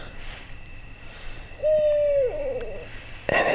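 An owl hoots once at night right beside a tent at a rainy campsite, a single close, clear call over a faint background of insects and steady night hum.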